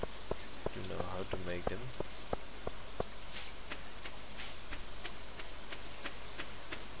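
Steady rain patter from Stardew Valley, a soft continuous hiss of drops with someone talking over it at the start and a few sharp game effect ticks.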